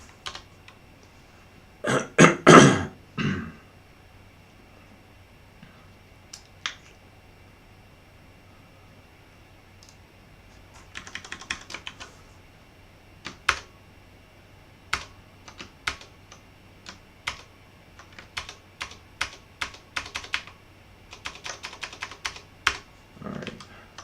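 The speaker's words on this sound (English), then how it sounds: "This is what I'm typing." Typing on a computer keyboard while coding in an editor: bursts of close, crisp key clicks with a few short pauses, a dense cluster early on, then scattered single taps and quick runs of keystrokes.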